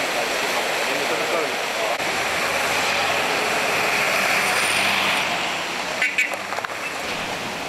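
The Aghstev river, flooded after heavy rain near Haghartsin village, roars as a steady, loud broadband rush of water, with a brief knock near the end.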